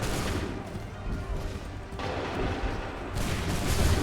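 Musket volley fire in Assassin's Creed III, heard as dense, continuous booming gunfire and crashing reports layered over a rumbling battle din, with loud bursts near the start and end.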